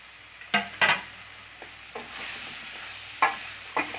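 Chopped bottle gourd is stirred and sautéed in a pan, with a soft background sizzle and a few sharp scrapes and knocks of the spoon against the pan at irregular moments, close by.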